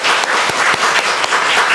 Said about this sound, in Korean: 모두 위해서 격려의 박수 한번 드립니다.